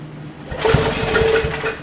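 A small engine after an exhaust valve grind starts up with a sputtering catch, then runs in a loud, close, rapid chugging idle, with no talking.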